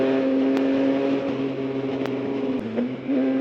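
A Yamaha MT-09 three-cylinder motorcycle engine runs at a steady, fairly loud hum with small rises in pitch, close by and heard alone with no talk.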